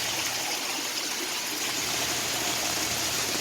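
Heavy rain pours onto a leaky greenhouse and drips and trickles inside through the seams, a steady, dense wash of water noise that stays constant and unbroken throughout.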